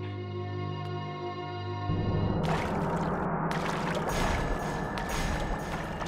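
Water gushes and pours steadily in a bathroom during a horror show; the noise starts after a low hum and stays loud and continuous to the end.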